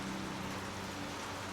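Steady rain falls without pause, a dense, even patter that stays moderately quiet throughout with no thunder or voices.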